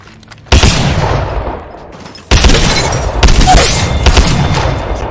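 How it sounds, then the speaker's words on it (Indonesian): The Eva-8 shotgun fires in Apex Legends, a few loud, booming blasts close up, the first standing alone and then a quicker cluster of shots with rumbling tails, no voice over them. "Eva itu menurut gue senjata yang gak perlu akurasinya tinggi banget"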